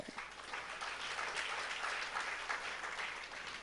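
An audience at a religious discourse bursts into sustained applause, a dense, even wash of many hands clapping that holds steady throughout.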